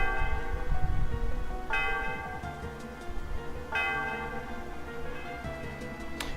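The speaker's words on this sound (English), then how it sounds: "The sound of the bell reverberates throughout the area. What a pretty sound." Celestial Tower bell in the video game Pokémon White rung twice, each a bright resonant clang with a long shimmering decay, heard alone over a low background hum.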